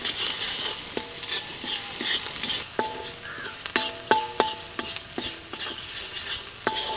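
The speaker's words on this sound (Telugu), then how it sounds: "ఉల్లిపాయలు అనేవి కొంచెం వేగే వరకు 2-3 నిమిషాలు ఇలా కలుపుకుందాం." Onions frying in a pan with salt and four slit green chillies, stirred by a spoon that clinks and scrapes in an irregular rhythm over a steady close sizzle, with no voices.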